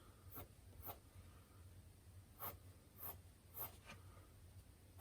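Pencil strokes drawing a feather on paper, with soft scratchy scribbles and a few sharper, louder strokes near the end, all close and fairly faint over a low steady hum. No one speaks.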